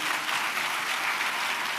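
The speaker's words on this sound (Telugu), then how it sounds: "చప్పట్లు కొడుతూ ప్రభువుకి స్తోత్రాలు" A church congregation clapping in praise to the Lord, a dense, continuous burst of many hands applauding together, fairly loud and close, with no voices standing out.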